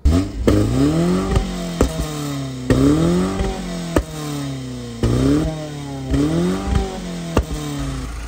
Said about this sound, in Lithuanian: mašina dirba su garsu, biški pašauda būna